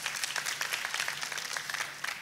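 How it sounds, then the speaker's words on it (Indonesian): Church congregation applauding at a service in Indonesia, a dense, steady wash of clapping that fills the whole moment at moderate loudness, with no voices standing out. "kita kasih tepuk tangan yang paling meriah"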